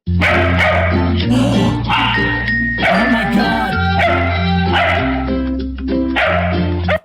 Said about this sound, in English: They're massive dogs.